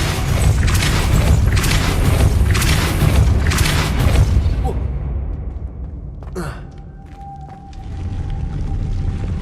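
A Depulso spell cast in Hogwarts Legacy, played on Xbox Series X: a dense, booming magical blast swells loud for several seconds, then fades out, and a sharp swish follows near the end over a steady game ambience.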